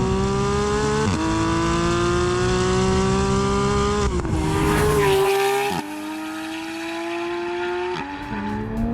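A sports car fitted with an aftermarket JCR exhaust revs loudly and close by, its engine note climbing in pitch with sharp drops between gear changes.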